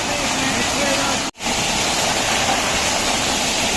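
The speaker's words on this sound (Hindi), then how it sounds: "मार्ग के बीचों बीच एक बहुत ही सुंदर सा झरना गिरता हुआ" A waterfall tumbling down across the middle of the Kedarnath trek path sends out a steady, dense roar of falling water. It stays loud and unbroken apart from one brief dropout, with no clear voice standing out above it.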